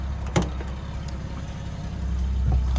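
Old VW LT35 fire truck's engine idling, a low steady rumble heard from close by inside the cab, with a couple of brief clicks and knocks over it.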